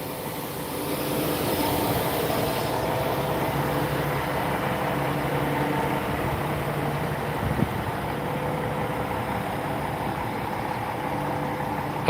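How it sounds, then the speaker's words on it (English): A GO Transit train rumbles past at a steady, moderate level, with a continuous low mechanical drone and faint higher hiss throughout, heard from a city street in Montreal. "Oh, it's a Go train."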